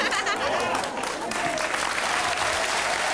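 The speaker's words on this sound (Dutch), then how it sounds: "Niet te veel applaus." Studio audience applause on a 1994 RTL4 Dutch TV surprise show, a dense steady wash of clapping held at full loudness for the whole stretch with no voices rising above it.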